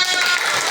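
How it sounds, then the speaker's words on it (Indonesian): Short burst of classroom applause as elementary school pupils clap for the winning group, a dense, steady patter of many small hands close by. "Tepuk tangan."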